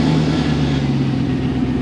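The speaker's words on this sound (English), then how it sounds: "Let's crank the truck and check it out." A 2002 GMC Sierra 2500HD pickup's engine runs at a steady, loud idle close by, a continuous low rumble with no talk over it.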